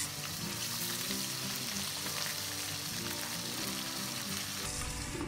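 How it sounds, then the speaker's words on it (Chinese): Cutlassfish frying in oil in a pan, a steady close sizzle and crackle that holds without a break, brightening slightly near the end. "锅里放些油，我们开始煎鱼。"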